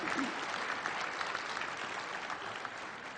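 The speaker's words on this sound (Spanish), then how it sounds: "un aplauso para ustedes" An audience applauds at an education conference, a dense, steady wash of clapping that fills the whole moment without pause, close and fairly loud.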